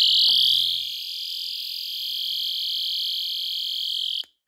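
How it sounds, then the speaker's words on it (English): A Vantamo personal alarm shrieks after its pin is pulled, a piercing, steady high-pitched tone that starts very loud and close, holds unbroken for about four seconds, then cuts off abruptly. "When you pull the pin out, it sounds the alarm and activates the strobe light"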